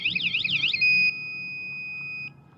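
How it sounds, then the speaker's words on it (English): A Geevon ebike and motorcycle alarm sounds loudly and close by, first as a rapid warbling siren and then as a steady, continuous high electronic tone that holds for over a second before cutting off. "after 5 seconds or so, the alarm goes off."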